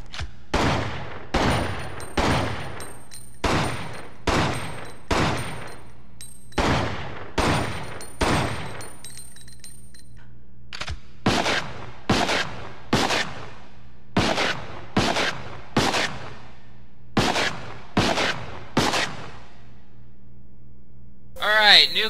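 Projectile weapons firing in the Resident Evil Outbreak video game: loud, sharp gunshots repeat steadily, around sixteen evenly spaced blasts with a brief pause midway, and no voice over them.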